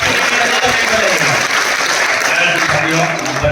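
A crowd at a business seminar in Aurangabad breaks into close, loud, dense clapping, with voices mixed into the applause.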